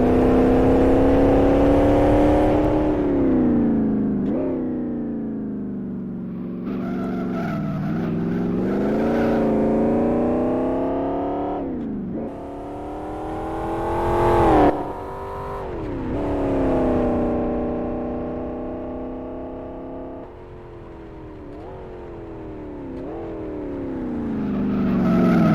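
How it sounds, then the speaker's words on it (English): A Cobra with a large-displacement V8 engine roars in the Live for Speed racing game, climbing and dropping through repeated gear changes over half a minute as the car accelerates and brakes along a circuit, with no talk. "it is very cool that it's distinct as a V8 with a huge displacement as the Cobra would have"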